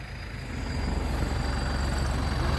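A Ford 7840 tractor with a 115-horsepower engine runs steadily, a deep, continuous diesel drone that swells slightly at the start and then holds even and loud throughout, with no voices.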